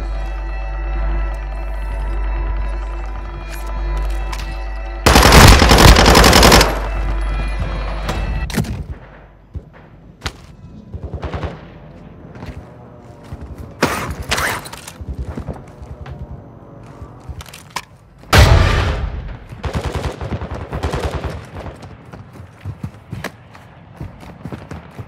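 Gunfire in the Call of Duty Warzone 2.0 DMZ video game, heard as loud bursts of automatic fire with sharp single shots and scattered impacts amid game sound effects.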